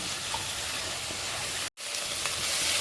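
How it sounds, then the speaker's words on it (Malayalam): Ginger-garlic paste sizzles and fries in a pan for a chicken curry while being stirred, giving a loud, continuous close hiss with one brief cut. "ഇതിൻ്റെ പച്ചച്ചവ മാറുന്ന വരെ ഒന്ന് ഇളക്കി കൊടുക്കണം."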